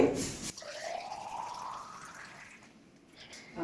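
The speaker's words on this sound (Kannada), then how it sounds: "ಬಿಸಿ ಮಾಡೋದಕ್ಕೆ ಇಟ್ಟಿರೋ ಒಂದು ಬಿಸಿ ಬಿಸಿ ನೀರನ್ನ ಹಾಕೊಂತ ಇದ್ದೀನಿ" Hot water pours steadily into a cup over ice cubes for a homemade weight loss drink, a soft trickle whose pitch rises as the cup fills, faint and close.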